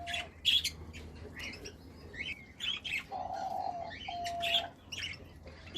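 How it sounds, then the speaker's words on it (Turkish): Diamond doves and other small birds in a mixed aviary, with soft scattered chirps and calls at moderate distance, some brief tonal notes, and faint fluttering, no voices. "Şu anda elmas güvercinin sesini duyuyorsunuz."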